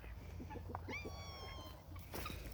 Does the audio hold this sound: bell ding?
no